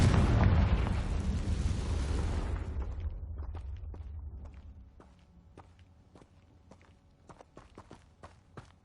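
A loud, rumbling Confringo explosive spell blast from Hogwarts Legacy fills the first few seconds and slowly fades, followed by a run of sharp, evenly spaced footstep clicks.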